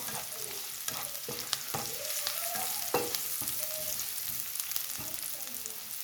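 Garlic fries and sizzles steadily in a pan while making fish escabeche, a continuous close crackle with several sharp clinks and taps of a utensil stirring throughout.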